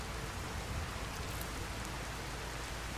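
A steady, dense downpour hisses evenly throughout in the Cloud District of a video game, a continuous wash of rain heard alone at a moderate, constant level.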